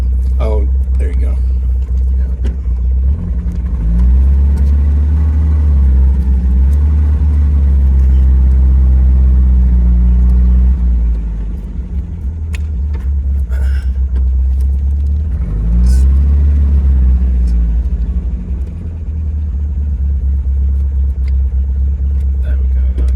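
An MG MGB Roadster with a 4-speed gearbox drives along, its engine droning and rising through gears, easing off and pulling again, loud and close beneath ongoing conversation between people in the car.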